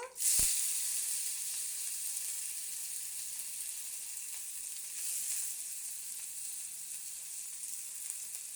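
Potatoes sizzle steadily in oil rendered from katla fish, a loud, continuous close-up frying hiss after a sharp start as they drop into the pan, with a slight swell midway.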